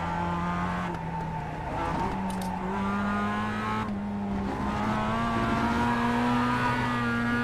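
A race car engine in the iRacing video game, played on a CAMMUS direct-drive wheel, drones loudly and continuously, its pitch climbing and dipping with gear changes and throttle as the car laps the track.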